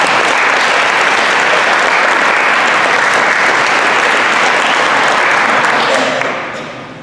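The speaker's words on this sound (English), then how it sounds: "Please give them a round of applause." Sustained, dense applause from a large audience at a high school FFA awards banquet, steady and loud for about six seconds before tapering off at the end.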